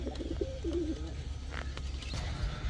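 A pair of red-necked Khulna pigeons coo softly in a low, throaty warble, a few short rolling calls against a steady background hum.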